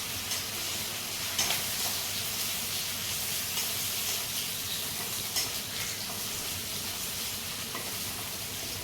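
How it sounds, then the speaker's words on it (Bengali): Onions fry in a pan for a hotel-style fish curry, a loud, dense, continuous sizzle with some stirring, close up and without speech. "পেঁয়াজটা একটু লাল করে নেব"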